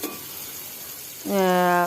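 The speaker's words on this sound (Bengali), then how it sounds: "এটা আমি কষিয়ে নিচ্ছি" Whole spices for panch phoron khichuri sauté in a pan with a close, steady sizzle and crackle; a person begins speaking over the frying in the final half-second.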